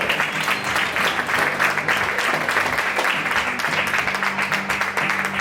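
Steady, dense applause from an audience greeting a player introduced at a women's all-star table football (futbolín) match in Lugo, sustained without a break, with some murmur beneath it.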